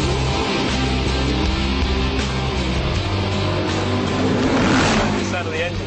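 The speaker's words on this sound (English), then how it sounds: "The sound of the engine's lovely." A McLaren MP4-12C engine revs and pulls hard under acceleration on a test track, a loud continuous drone with rising and falling pitch that persists throughout, while someone talks over it.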